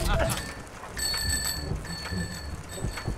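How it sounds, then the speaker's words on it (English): Bicycle bell rung repeatedly in the war video game Heroes & Generals, bright metallic dings over game noise while someone talks over them. "Aren't we all ringing our bells while we run into war so that they know we're coming?"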